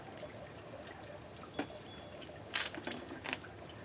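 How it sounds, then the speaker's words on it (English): Water poured into potted Phalaenopsis orchids set in crystal on watering day, a faint soft trickle under low background hiss, with a few brief louder splashes and dribbles near the end. "So I'm pouring some in."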